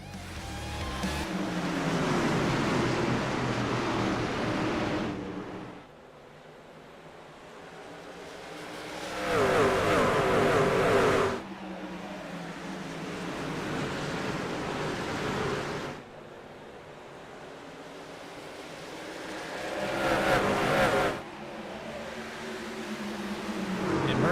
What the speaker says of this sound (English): Coastal Financial Truck Series is live and racing.